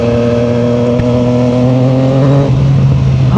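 A Triumph Street Triple Moto2 Edition 765cc motorcycle engine revs hard and holds a loud, steady, high-pitched drone, then its pitch shifts and drops near the end, close up with no talking.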